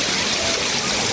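The Kodiveri waterfall near Gobichettipalayam roars in a loud, steady rush of falling water that fills the whole scene without a break.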